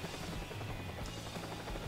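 A helicopter in the video game Far Cry 3 gives off a steady, unbroken rotor and engine drone, moderately loud and continuous throughout, with no talking.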